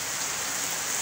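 Heavy rain driven by strong wind in Indonesia, a steady dense hiss of downpour that holds evenly throughout without talk.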